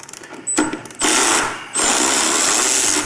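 A power tool spins out a 7/16 bolt from the fairing support bracket on a 23.5+ Road Glide, with short whirring bursts, a pause, then a steady loud buzzing run up close.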